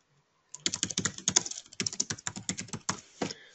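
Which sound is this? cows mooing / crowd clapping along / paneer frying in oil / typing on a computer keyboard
typing on a computer keyboard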